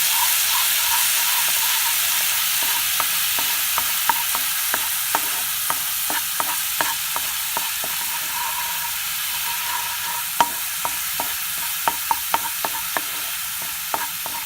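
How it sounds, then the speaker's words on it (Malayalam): Ginger garlic paste cooks in hot oil in a pan, with a steady bright sizzle and a long run of quick, regular spoon taps and scrapes, louder toward the end. "അതിലേക്ക് 1 ടീസ്പൂൺ ഇഞ്ചി വെളുത്തുള്ളി പേസ്റ്റ് ഇട്ട് കൊടുക്കുക. ഇത് നല്ലോണം ഒന്ന് കുക്ക് ചെയ്തെടുക്കുക."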